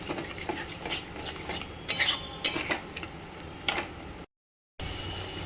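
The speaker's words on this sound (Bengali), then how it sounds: "এখন দই আর গুঁড়ো মশলা যে বানিয়ে রাখাই ছিল এটা দিয়ে এখন কষে নেবো ভালো করে" Yogurt and ground spices stir-fried in a pan for a vegetarian elephant-foot yam dish, with scraping clinks of a spoon against the pan in irregular bursts over a low background, ending in a brief silent gap.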